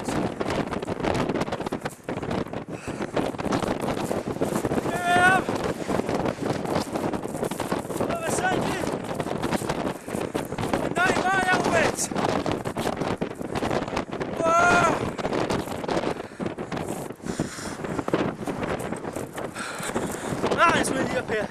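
Strong wind on a beach buffets the microphone in constant loud roaring gusts for the whole stretch, with people talking now and then through the noise.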